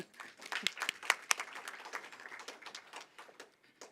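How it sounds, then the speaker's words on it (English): Scattered clapping from an audience at a memorial lecture: individual claps stand out in an uneven, moderately quiet round of applause that thins toward the end. "Galebo, can we give him another round of applause?"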